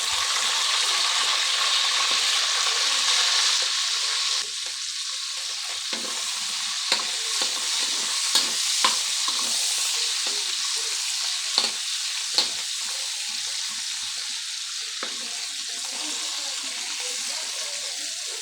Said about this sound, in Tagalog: At dahil nga may mantika na tayo, ay ilagay naman natin yung ating dried fish o ang ating labahita.